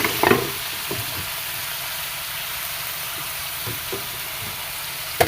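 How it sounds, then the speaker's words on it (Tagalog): Carrot and cabbage frying in a pan make a steady, close sizzle that runs the whole time, broken by a few soft stirring knocks and scrapes, with no talking. "Lalagay na rin po natin yung carrot. Saka repolyo."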